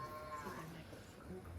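Beefmaster cross Droughtmaster cattle on a grazing ranch give a single drawn-out low moo, quiet and somewhat distant, lasting over a second against soft background noise.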